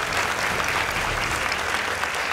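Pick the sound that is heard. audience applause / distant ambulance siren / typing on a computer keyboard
audience applause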